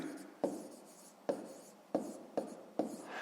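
Pen writing numbers by hand on paper for a fifth-grade maths exercise, five quick scratchy strokes or digits at steady intervals, close and fairly quiet, with no talk.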